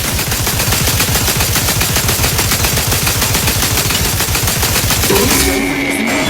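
Rapid automatic gunfire in Outer Worlds 2, a loud, continuous stream of evenly spaced shots for about five seconds that stops abruptly, followed by a brief electronic tone.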